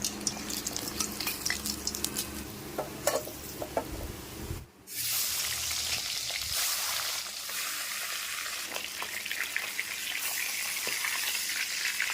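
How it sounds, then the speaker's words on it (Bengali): Fish frying in well-heated oil in a wok, a steady loud sizzle that drops out briefly, then resumes as a dense, bright crackle and spitting with no speech. "তেল খুব ভালোভাবে গরম করে নিয়েছি তেলের মধ্যে মাছগুলি দিয়ে ভেজে নেব"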